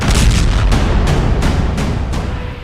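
Explosions from Russian drone strikes on Ukraine come as a loud, rapid series of heavy booms, about six sharp blasts roughly a third of a second apart over a dense rumbling background.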